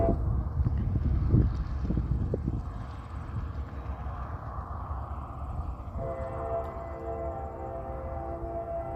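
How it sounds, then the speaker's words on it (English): A westbound freight train rumbles by at speed, heavy and continuous, with its horn sounding a sustained chord near the end. "That horn is so good."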